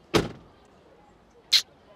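A Tesla Model 3 door closing with the window lowered gives a sharp thump, then about 1.4 seconds later a second, brighter clack, both close and clear against a quiet background.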